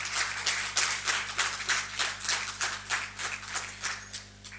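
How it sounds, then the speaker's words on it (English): An audience at a business conclave claps in welcome for a speaker coming to the dais, a sustained round of applause with dense rhythmic hand claps, moderately loud, fading toward the end. "Now, with a huge round of applause, let's welcome Ms. Bora to the dais."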